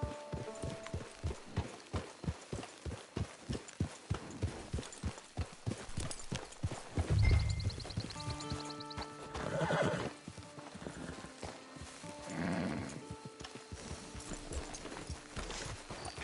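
Steady hooves clip-clop on the ground, followed by a horse's loud whinny and snorting neighs, with background music throughout, in the video game Red Dead Redemption 2.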